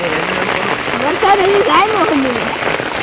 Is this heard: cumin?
no